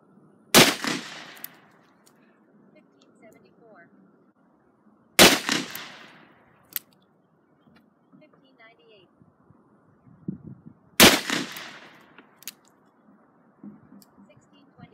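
Three loud, sharp .44 Magnum revolver shots fired from a Smith & Wesson Model 29 with hot loads, spaced about five seconds apart, each followed by a brief ringing decay over a low outdoor background.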